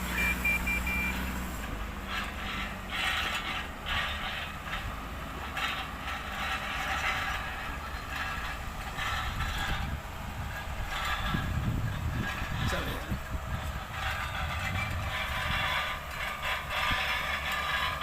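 A tractor-drawn subsoil plow scrapes and grinds through hardpan soil in a sugarcane field, a steady loud mechanical rumble with rattling clanks and surging engine noise throughout.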